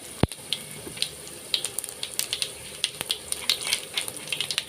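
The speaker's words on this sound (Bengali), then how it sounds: "আমি এখানে গোটা পাঁচফোড়নটা দিয়ে দিলাম, দিয়ে একটু নেড়ে নিচ্ছি" Whole panch phoron spices crackle and pop in a pan on low heat while being stirred, giving scattered sharp sizzles and faint scraping throughout, close by with no talking.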